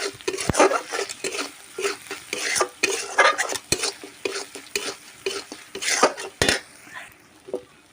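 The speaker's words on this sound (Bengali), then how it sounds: "এবারে এটাকে আমি ভালো করে একটু কষিয়ে নেব।" A spice mix of chilli powder, turmeric and salt fries in oil in a pan while a spatula scrapes and stirs it in quick, irregular strokes. The scraping and clinks sit close over a soft, continuous sizzle, with no talk.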